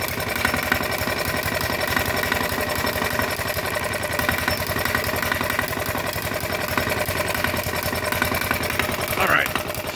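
A D16 diesel model engine runs steadily at idle with a fast, even mechanical chatter and knock throughout, loud and close, with a brief clatter near the end.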